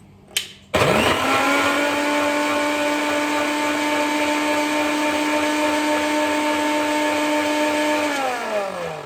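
A mixer grinder blending a drink with powdered sugar whirs loudly and steadily for several seconds after a brief clunk at the start, its motor pitch dropping slightly as it winds down.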